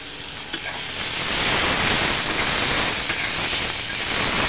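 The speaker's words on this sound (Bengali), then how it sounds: "এখন এটাকে আমি মশমশো করে ভেজে নেব।" Onions and green chilies fry in a pan with a steady, dense sizzle and hiss that swells slightly midway and runs unbroken, with no talking.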